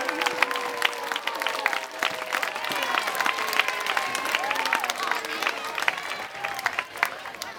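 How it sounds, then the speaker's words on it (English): An audience at a school early bird ceremony breaks into applause, sharp individual claps scattered through a lively crowd, with some cheering and voices mixed in over the clapping. "Please, a big applause."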